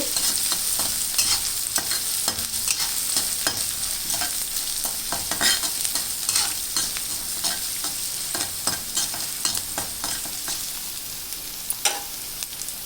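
Drumstick leaves fry in a pan as salt is stirred in, with a constant crackling sizzle and frequent scraping, clattering strokes of the spoon across the whole stretch.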